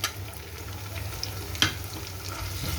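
Garlic, ginger and cumin paste frying in a pan makes a soft, continuous sizzle with light stirring and one brief clink partway through, fairly quiet and close, with no one talking.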